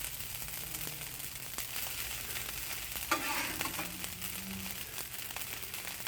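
Chicken fried rice being stirred and tossed in a pan, with a steady soft sizzle and scraping broken by a brief louder clatter midway, close up and without talk.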